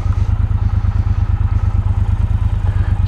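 A Triumph Speedmaster motorcycle engine rumbles at slow riding speed, a loud, close, steady low throb with a pulsing beat and no pauses.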